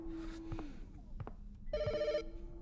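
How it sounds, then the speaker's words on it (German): A telephone rings inside the horror video game The Shadow over Route 80, a short bright electronic trill near the end, preceded by scattered thumps and clicks in a quiet scene. "Mein Telefon klingelt."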